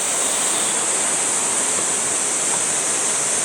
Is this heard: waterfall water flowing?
yes